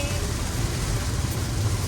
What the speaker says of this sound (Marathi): पाऊस खतरनाक आहे राव. तुम्ही आवाज ऐकू शकता असा जो आवाज येतोय.